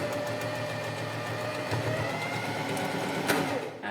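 A sewing machine runs briefly while finishing a seam on a zippered cosmetic pouch, a steady close whir with no voices.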